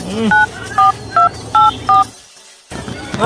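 Five sharp telephone keypad tones beep in quick succession, each a short steady dual-tone blip, followed by a brief silence and faint room noise.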